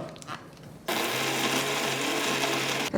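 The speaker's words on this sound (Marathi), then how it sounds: "आता हे मिक्सरला फिरवून घ्यायचं" Quiet clatter, then a kitchen mixer grinder starts abruptly, grinding roasted coconut, fried onion and coriander, and runs loud and steady with a harsh whirring roar until a brief stop at the end.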